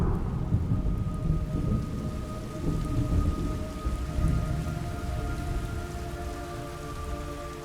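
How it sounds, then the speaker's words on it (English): Heavy rain hisses steadily in the Metal Gear Solid Delta: Snake Eater jungle, with low rumbling thunder beneath and faint sustained tonal sounds layered over the downpour; no speech. "It's raining blood."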